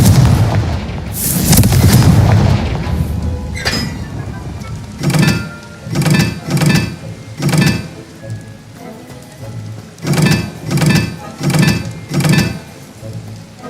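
Blasting spells go off in the Hogwarts Legacy video game: loud booming explosions, a heavy cluster first, then a steady run of evenly spaced blasts.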